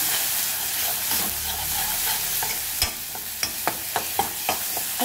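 Spices (red chilli powder and garam masala) sautéed in hot oil in a pan, with a steady sizzle and a run of sharp spoon scrapes and taps growing more frequent toward the end, no talking.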